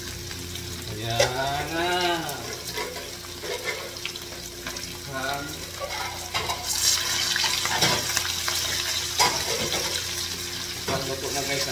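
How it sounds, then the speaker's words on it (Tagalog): Fish frying in hot oil in a home kitchen, with a steady crackling sizzle that runs the whole time under occasional speech and some utensil and water sounds. "Pagluto na guys ang ating pritong isda"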